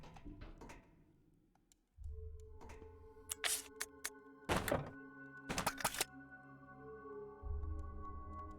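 In Resident Evil 0, a locked door rattles and thunks when tried, heard as several sharp knocks and clacks amid quiet game ambience, with no talking.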